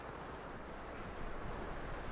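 Horse hooves clip-clop at a steady pace in the open world of Red Dead Redemption 2, with a constant wash of ambience around them and a slightly firmer, closer patch of steps near the end.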